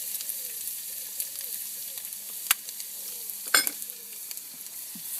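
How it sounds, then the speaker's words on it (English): Fresh ginger and garlic sizzle steadily in a hot pan for a Durban curry, a close, continuous frying hiss with a few sharp spatters and stirring clinks, no voices. "next you're going to add your ginger, fresh ginger, and then your garlic as well."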